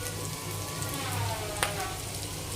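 Oil sizzles and crackles steadily in a pan while seafood fried rice is being made, a continuous close frying hiss with a brief sharper spatter.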